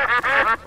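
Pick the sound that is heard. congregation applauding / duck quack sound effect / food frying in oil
duck quack sound effect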